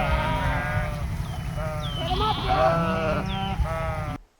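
Sheep bleat in a field holding about 200 of them, several overlapping calls rising above a steady low background rumble, fairly near and moderately loud, with a voice talking faintly underneath.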